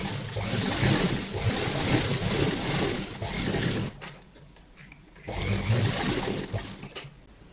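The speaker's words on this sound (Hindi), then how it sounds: "इसके बराबर बराबर रखते हुए सिलाई लगा लेंगे" A sewing machine stitches along the armhole of a child's sleeveless summer frock, running in a quiet steady whir, pausing briefly, then resuming, close and alone.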